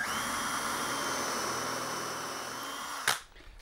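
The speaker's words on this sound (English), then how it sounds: "Drill a hole." A power drill whirs continuously at a steady pitch, then cuts off with a brief clack near the end.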